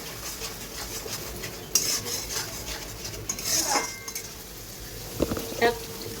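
Chicken is stirred with ginger garlic paste in a pot, giving soft scraping and rubbing strokes with a few metallic clinks of the spoon against the pot near the end.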